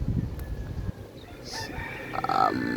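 A rooster crows at a distance over low outdoor background noise, the call rising and falling briefly near the end.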